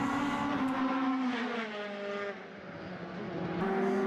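Formula race cars on a Formula BOSS Ireland circuit scream past, their high engine notes rising and then falling with a Doppler sweep as they pass at moderate distance, while a commentator talks over the top.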